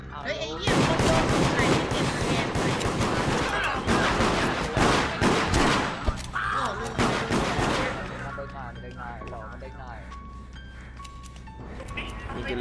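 Dense, rapid gunfire rattles loudly in the online deception game Deceit, continuous bursts layered over each other for several seconds before thinning into scattered shots and quieter game noise.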